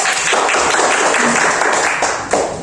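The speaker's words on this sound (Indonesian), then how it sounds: "tepuk tangan untuk kita Bapak Ibu" Audience clapping at a school teachers' gathering makes a dense, steady wash of applause that stays loud for the whole stretch, with no clear talk over it.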